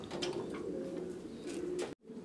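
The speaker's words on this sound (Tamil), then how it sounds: "இது வந்து டபுள் கிரஸ்டட் சாக்சன் ஷீல்டு" A double-crested Saxon Shield pigeon coos steadily in a low, sustained tone, close and fairly loud, with the sound cutting off abruptly near the end.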